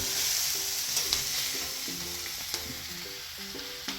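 Sliced onion and grated coconut dry-roast in a pan for a village chicken curry spice paste, a steady low crackle with periodic scraping strokes of a spatula, close and clear, no voices.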